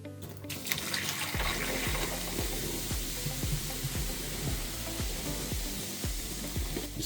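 Hot boiling water pours steadily down a clogged kitchen sink drain, a continuous rushing splash with repeated low gurgles and glugs as the drain backs up, close and loud with no talking.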